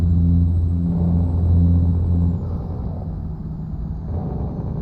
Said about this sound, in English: You're right, I can hear your truck.